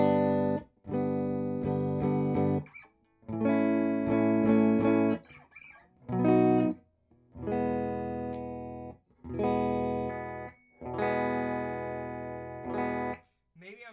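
Sterling by MusicMan StingRay SR30 electric guitar played through its humbucker pickup, distorted chords in short strummed bursts separated by brief pauses, clean and close.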